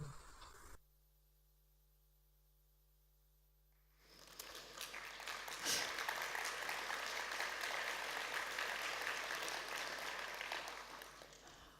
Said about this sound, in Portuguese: estas palmas são para estas pessoas